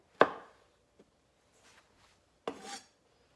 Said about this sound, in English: I'm just going to square off both ends of the tomato